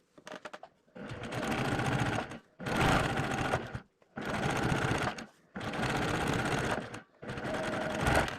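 A sewing machine stitches together Ohio Star quilt pieces in five loud, steady runs of rapid mechanical whirring, each a second or so long, with short silent pauses between them.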